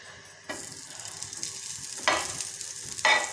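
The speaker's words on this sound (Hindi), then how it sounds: "तवा मेरा गर्म हो चुका है और उसमें मैंने देसी घी डाल लिया है।" Desi ghee sizzles in a hot griddle pan while French toast is being made, a steady close frying hiss with a few brief louder surges as something is stirred or added.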